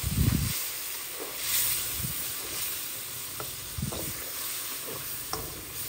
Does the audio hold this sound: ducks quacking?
no